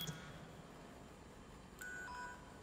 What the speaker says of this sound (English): I just get a freaking text message?